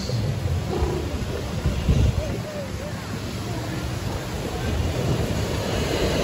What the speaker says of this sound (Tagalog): It's a windy, windy Christmas.